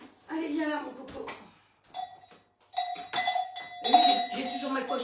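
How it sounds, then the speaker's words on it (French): A Swiss cowbell rings with bright, sustained metallic tones in a home kitchen, clanging a few times in close succession and lingering, while a person talks before and around the ringing. "J'ai toujours ma cloche suisse"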